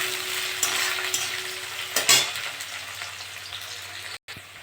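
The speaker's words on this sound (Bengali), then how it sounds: "পেঁয়াজটা দিয়ে একটু ভেজে দেবো।" Onion sizzling and frying steadily in hot oil in a pan, with a dense continuous crackle and a few brief stirring scrapes, close and fairly loud with no talking.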